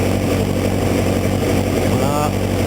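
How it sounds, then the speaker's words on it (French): A Suzuki GSX 1400 motorcycle engine idles steadily and close by, a continuous low rumble with a constant even pulse throughout, while the idle is being adjusted. "j'essaye de stabiliser mon ralenti"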